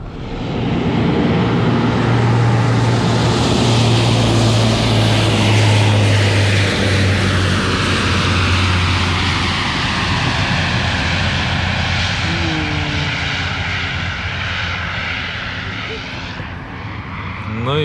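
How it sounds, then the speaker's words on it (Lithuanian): Propeller airplanes taking off and landing on a sandy beach, engines droning loud and close throughout, with the pitch shifting as aircraft pass and pull away. "pirmą kartą matau, kad ant smėlio lėktuvai paplūdimy leistas"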